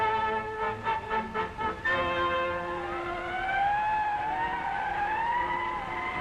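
Fire engines pull away from a 1940s–50s forest fire in the San Gabriel Mountains, a wailing siren rising and falling over a rumbling engine, preceded by a few short rhythmic horn or siren blasts, loud and close with no talk.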